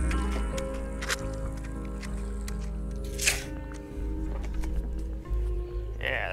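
A calf sucks milk from a bottle, making wet squishing and gulping sounds in a steady rhythm close by, with low background hum and a few brief louder slurps.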